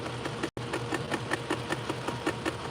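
A sewing machine stitches a denim jean jacket in a steady, rapid mechanical chatter with a regular pulsing rhythm, close and fairly loud, broken by one brief cut near the start.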